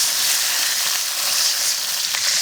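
Water poured into a hot wok of stir-fried beef for a spicy boiled-beef dish, setting off a loud, continuous hiss of sizzling that holds steady throughout with no talking.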